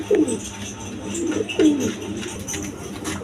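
Pigeons coo in a loft holding a breeding pair with eggs, two clear throaty coos about a second and a half apart over faint ambient background.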